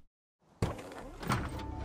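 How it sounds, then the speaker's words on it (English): A sliding car door opens sideways in an anime-style video game, a sudden mechanical whoosh and rumble that bursts in after a near-silent moment and carries on with a rolling slide and a clunk. "the car door is open sideways"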